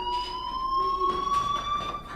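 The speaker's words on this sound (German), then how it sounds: "Hey, do you hear that fire alarm?" A fire alarm rings in the video game Life is Strange as a steady, piercing electronic tone that holds continuously and loudly throughout.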